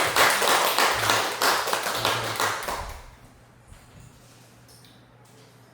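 Audience clapping at a church gathering, a dense burst of applause lasting about three seconds before fading out, followed by quiet room tone and a few soft words.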